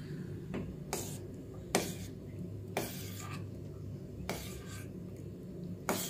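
A spoon scrapes and knocks around a pot while stirring a melting homemade Vaseline mixture, giving a handful of irregular scraping strokes over a low, steady background hum.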